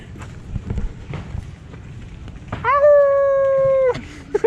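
Dogs on a beach in Sanur, Bali: scattered footsteps and rustling, then a loud, sustained drawn-out howl from a close dog lasting over a second, followed by short yips.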